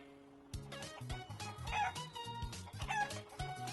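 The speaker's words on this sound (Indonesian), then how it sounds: "ayam adalah contoh hewan yang gak mengalami metamorfosis" Chickens cluck in rapid, repeated bursts while a rooster crows, the calls layered and fairly close in an otherwise quiet setting, with no voices.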